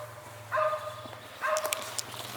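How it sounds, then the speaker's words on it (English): Two short bursts of dog barking ring out at a campsite at night, each a quick cluster of yaps at moderate distance over a low steady hum. "that dog is going to give me the irrits."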